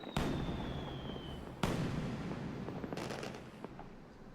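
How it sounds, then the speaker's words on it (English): Several firework bursts in the game Final Fantasy XII boom and crackle, a sharp bang near the start and another midway, then a crackling cluster toward the end, with a faint whistle early on. "Everybody loves fireworks."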